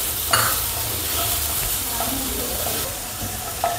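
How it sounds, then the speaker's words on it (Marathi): Onion and spices fry in a pan for soybean curry with a continuous sizzle, punctuated by occasional clinks and scrapes of a spoon stirring. "आता मी सोयाबीन उकळेपर्यंत मसाला भाजून घेते. कांदा भाजून घेते."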